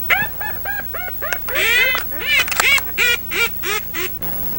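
Pintail and widgeon ducks call during a duck hunt in Mexico, a loud run of repeated quacks and whistling calls close by, some overlapping in busy bursts before trailing off.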